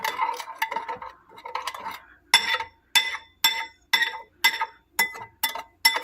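A spoon stirring hot acerola cherry jam in a glass dish, with rapid clinks and taps followed by a regular series of sharp knocks against the glass, close and alone.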